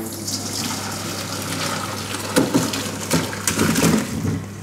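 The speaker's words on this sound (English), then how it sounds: "So let me take that over to the sink and we're going to drain it off. So I'm just going to tip all the water away." Water from boiled potatoes tipped out of a pan into a kitchen sink, a close steady pour and splash that swells into louder gushing bursts near the end, with no talk.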